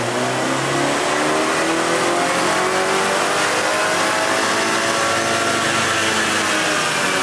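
A tuned BMW 330i with the B48 engine on a JB4 map pulls hard on a dyno, its loud engine note climbing steadily in pitch through a sustained wide-open run, close up with no talk.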